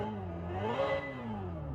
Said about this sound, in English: you can pick your engine noises